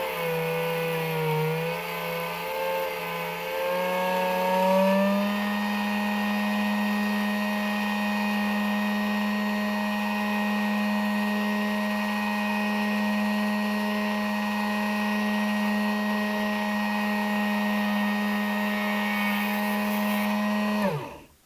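A steady, droning motorized saw cuts across the segments of a motor commutator, its pitch shifting slightly early on before settling into an even, continuous whine for about twenty seconds, then stopping abruptly.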